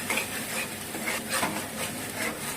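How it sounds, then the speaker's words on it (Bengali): Cashew-poppy paste is stirred into a bubbling fish curry gravy, making repeated wet scraping strokes against the pan over a low sizzle. "আমি কাজু পোস্ত পেস্টটা দিয়ে দিলাম মিশিয়ে দেবো ভালো করে"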